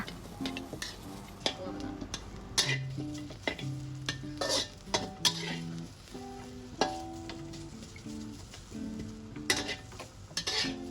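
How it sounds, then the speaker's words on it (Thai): Fresh chili, garlic and shallots dry-roasted in a pan for a Thai bamboo-shoot salad give a steady stirring scrape and light sizzle, with repeated utensil clacks against the pan under soft background music. "ใส่พริกสดกระเทียมหอมแดงลงไป คั่วไปเรื่อยๆค่ะ"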